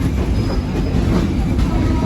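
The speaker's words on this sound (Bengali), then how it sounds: "আমাদের ট্রেন ছেড়ে যাচ্ছে যশোর জংশন থেকে ঢাকার উদ্দেশ্যে।" The Benapole Express, bound for Dhaka, pulls out of Jessore Junction with a loud, continuous rumble of rolling railcars and steady wheel noise close by, unbroken from start to finish.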